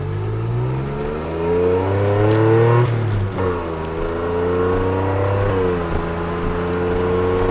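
A DeLorean's engine revs hard and accelerates, its rising harmonic drone loud and close, easing briefly mid-pass before building again, with no voices over it.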